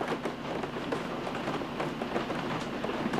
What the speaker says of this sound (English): Yes, Herbie, that is rain that you hear. It almost sounds like popcorn here, popcorn popping. It is pouring.